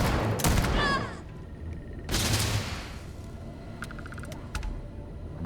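Gunfire in the Starfield video game: two sharp, loud bursts of shots about two seconds apart, followed by quieter clicking and mechanical sounds.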